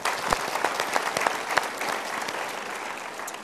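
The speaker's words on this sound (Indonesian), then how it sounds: "Kita berikan tepuk tangan" Audience applause at a motivational seminar by Mario Teguh, a dense steady wash of many hands clapping with a few sharper nearby claps standing out, continuous and fairly loud throughout.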